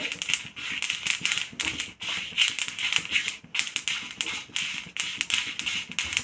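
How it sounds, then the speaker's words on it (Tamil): Sesame seeds roasting in a pan with dried chillies, crackling and popping in a dense, continuous stream of sharp little snaps, close and fairly loud with no voices. "எள்ளு வந்து படப்படன்னு ஆரம்பிச்சிருச்சு"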